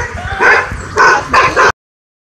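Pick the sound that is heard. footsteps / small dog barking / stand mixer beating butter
small dog barking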